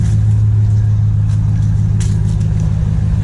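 A 2016 Ram 1500 truck engine, not yet warmed up, runs at fast idle around 1,000 RPM with the exhaust cutout open, a loud steady low rumbling drone with even throb, close to the exhaust and without talk.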